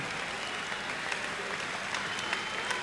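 Steady applause from a boxing crowd in Melbourne fills the hall at moderate distance, a dense continuous patter of clapping without pause or voices.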